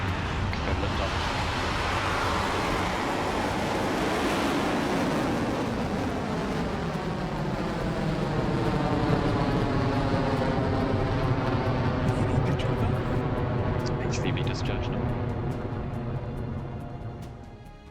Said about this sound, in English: Rocket Lab's 17-meter tall two-stage Electron rocket lifted off from Launch Complex 1 in New Zealand